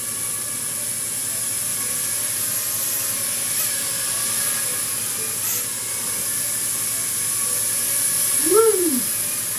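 A small quadcopter drone flies outdoors at a campsite, giving a thin, steady high-pitched whine over faint background noise, with a brief rising-and-falling pitch sweep near the end as it manoeuvres.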